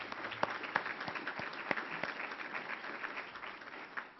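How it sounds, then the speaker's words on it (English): Applause from a luncheon-club audience at a civic forum, many hands clapping in a continuous patter with a few sharper individual claps standing out, moderately distant and fairly soft. "Let's give them a round of applause for their support"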